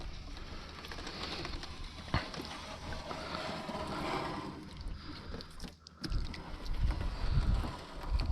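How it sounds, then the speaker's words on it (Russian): A boat moves across the water during a river fishing trip for burbot. A steady wash and rumble of the hull plays throughout, with a sharp knock early on, a brief dip in sound, then louder, closer churning toward the end. "Лодка едет."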